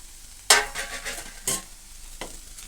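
Okra curry simmering in a pan, a faint sizzle broken by a few sharp scrapes and stirs of a spoon against the metal.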